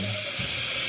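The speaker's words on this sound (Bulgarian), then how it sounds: "Наливаме вода." Tap water runs steadily into a pot being filled to boil eggs in a home kitchen, a constant close rushing hiss with no talking.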